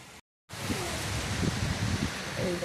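Heavy rain pours down as a dense, steady roar of broadband hiss, following a brief moment of total silence near the start, with faint low thumps and murmurs beneath.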